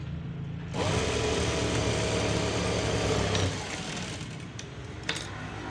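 A sewing machine runs a steady, loud mechanical stitching burst for about three seconds while a loose stitch is demonstrated, then stops, leaving quieter background noise and a faint click.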